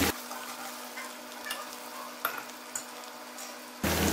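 Browning onions with ginger garlic paste fry in a pot with a low, steady sizzle, broken by a few sharp spoon clatters and scrapes near the end.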